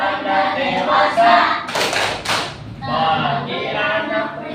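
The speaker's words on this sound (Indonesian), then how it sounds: "perhatikan tepuknya ya. Tepuk tanda dewasa" An Indonesian 'tepuk' coming-of-age hand-clapping chant: voices sing in a steady rhythm, punctuated by a cluster of sharp claps midway.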